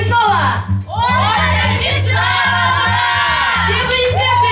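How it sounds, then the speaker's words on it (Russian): Graduation ball crowd loudly shouting and cheering together to call back a teacher, a dense sustained roar of many voices with loud music playing underneath. "громко кричите и зовите ее снова"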